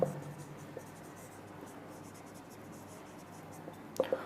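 A pen scratches quietly across paper while a maths solution is written out, a faint steady scribble under low background hum, with a brief soft voice sound at the end.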